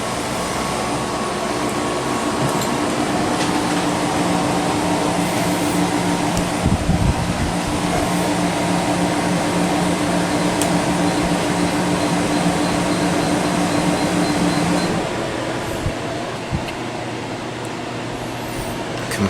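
A Danby/Idylis portable air conditioner runs with a steady, loud broadband whoosh of fan air and a low compressor hum; the drone holds evenly for about fifteen seconds, then drops slightly as the unit eases down.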